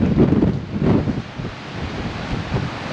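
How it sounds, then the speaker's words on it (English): Wind howls and roars along the seashore at high tide near a fishing pier between Somers Point and Ocean City, New Jersey, a steady broadband rush with low rumbling gusts and surf, loud and continuous. "The wind is howling."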